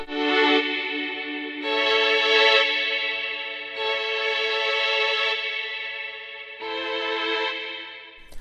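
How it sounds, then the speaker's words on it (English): Sustained synth chords from a Mellotron M4000D swell and change in slow succession, each washed in a huge, spacious Dreamscape reverb tail that blurs into the next. "I'm going to actually use the biggest reverb ever on the beginning of what we jam with"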